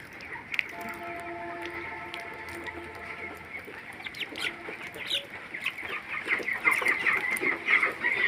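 Farmyard chickens cluck and chatter close by in the afternoon, with repeated short clucks and a few drawn-out calls that grow busier and louder toward the end. No one speaks.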